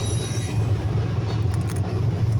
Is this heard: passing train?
yes